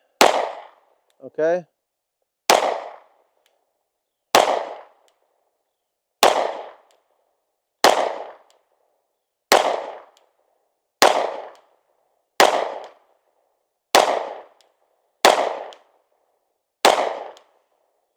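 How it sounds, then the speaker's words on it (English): A Sig P365x Macro Comp pistol fires eleven sharp, loud shots at a steady pace of roughly one every one and a half seconds at a target, each crack followed by a short decay, with one brief spoken word early on. "I'm going to shoot at my first shot wherever I hit."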